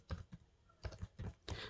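Keys clatter on a computer keyboard in a few quick bursts with short pauses between, close and fairly quiet, no talking.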